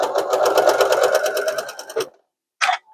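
Sewing machine stitching a quilt seam on a patriotic American flag quilt: a fast, even mechanical whir of needle strokes for about two seconds that stops abruptly, followed by a short isolated buzz.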